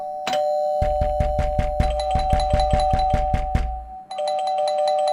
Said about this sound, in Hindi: घंटी भी दे रहा है, खटखटा भी रहा है।